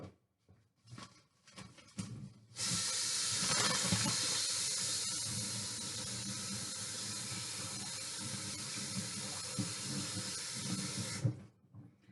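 Hot tap water gushes in a steady, loud hiss for several seconds after a few clicks, then cuts off abruptly.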